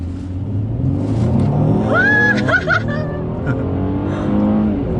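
A Mercedes-Benz E400 4MATIC engine revs hard and loud, accelerating from standstill to 100 km/h, its pitch climbing steadily with a continuous roar throughout.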